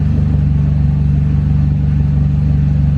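A Saab 9-3 Arc engine idles steadily at operating temperature, a close, even low-pitched hum and rumble holding constant throughout with no revving.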